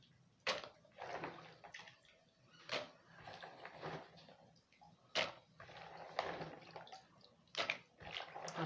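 Fresh groundnuts washed in water to rinse off sand, giving intermittent splashing, sloshing and pouring bursts, close and moderately quiet, with no talking.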